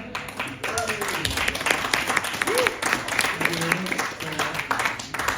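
Applause from a small poetry-reading audience at St Paul's rises and fades over several seconds, scattered clapping mixed with voices and chatter.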